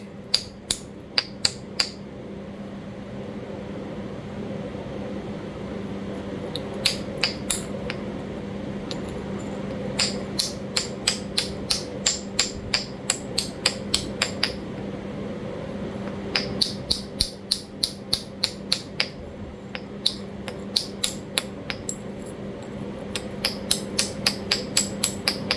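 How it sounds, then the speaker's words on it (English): A stone preform is struck against an anvil stone in flintknapping, sharp clicking taps in quick bursts with pauses, close and crisp over a steady low hum. "So I'm just using the Anvil stone just to kind of make the preform."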